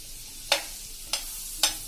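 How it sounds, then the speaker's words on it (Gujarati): Butter melting on a pan over a gas flame, three short bursts of sizzling or stirring scrapes spaced about half a second apart over a quiet low background. "તો આ બટરને આપણે પહેલા આવી રીતે ગેસ ઉપર મેલ્ટ કરી લેશું।"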